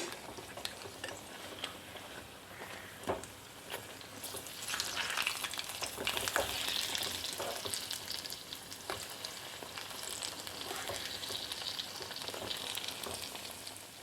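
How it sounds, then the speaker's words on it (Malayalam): Chili bajji fritters fry in hot oil with a soft, continuous sizzle and bubbling. Scattered ticks and scrapes come through, and the frying grows louder and denser partway through. No one speaks. "ഇടയ്ക്ക് നമുക്ക് ഈ മുകളിലോട്ട് അല്പം എണ്ണയൊന്ന് തൂങ്ങിക്കൊടുക്കാം ഒരു വശം നന്നായിട്ട് മൂത്ത് വന്നിട്ടുണ്ട് ഇനി നമുക്കൊന്ന് മറിച്ചിട്ട് കൊടുക്കാം"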